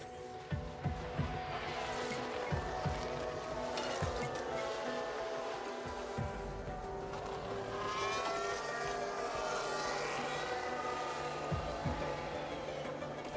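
In a racing video game, a faulty car engine drones and whines in steady, rising and falling tones, sometimes sputtering. Race commentary voices talk over the sustained noise throughout.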